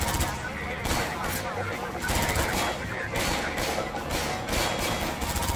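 Rapid gunfire from the video game Half-Life 2 crackles in dense bursts with thumping impacts, loud and close, while a player talks over the shooting.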